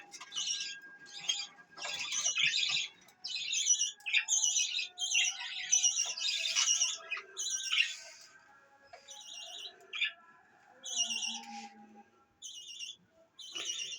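Budgies in an indoor bird room chirp and squawk in quick repeated bursts, fairly close, with brief pauses between flurries and no talk.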